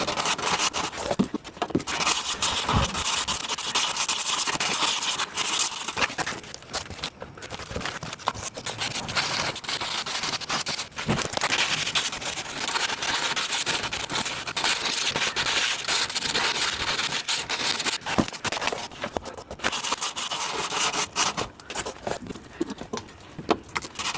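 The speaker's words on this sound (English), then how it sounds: "So much sanding." Bondo body filler on a rusty car rocker panel is sanded by hand, a continuous gritty rubbing rasp in rapid back-and-forth strokes, close and steady with brief pauses.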